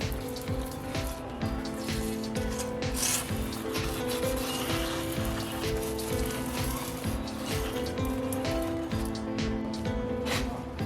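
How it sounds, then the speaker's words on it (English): A rear brake drum from a Holden Barina is rubbed and wiped clean by hand, producing steady, close scrubbing and scraping strokes throughout with no pauses. "So I have to clean the brake drum."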